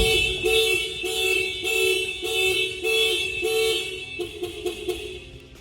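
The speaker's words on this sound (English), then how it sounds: "If you hold it down, it will fire off the alarm." A car alarm on a 1991 Honda Civic sounds in repeated bright tonal bursts, close and loud, the pattern shifting to shorter chirps toward the end.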